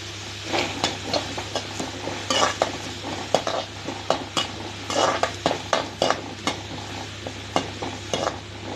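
Onions sauté in a pan with green chilies and curry leaves for cabbage carrot poriyal, with a steady sizzle and repeated scraping strokes of a spoon against metal, close and clear, no voices.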